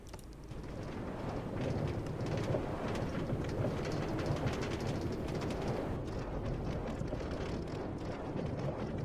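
A Minecraft minecart tram rolls along rails through the Nether toward spawn, a steady rumbling clatter with rapid rhythmic clicks that holds at a constant level throughout, with no speech.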